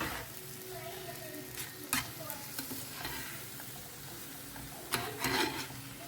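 Fried chicken is stirred into masala in a pan, soft sizzling under repeated scraping and clinking spatula strokes, with a couple of louder knocks against the pan.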